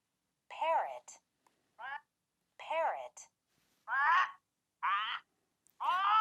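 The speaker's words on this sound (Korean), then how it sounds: "parrot, 앵무새 소리도 들리죠?" A series of short, raspy parrot calls in separate bursts, clear and close, with brief silences between them.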